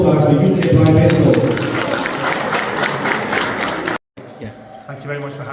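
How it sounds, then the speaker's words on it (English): An audience at a hospital event in Gujarat gives a big round of applause for UK blind baseball, loud sustained clapping with crowd murmur and some talk, which cuts out abruptly before quieter background sound resumes. "So a big round of applause, guys, for UK blind baseball."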